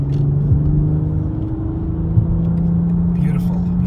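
A 2024 BMW M440i pulls onto a highway with a steady low engine drone that builds gently as the throttle opens, heard from inside the cabin over continuous road rumble.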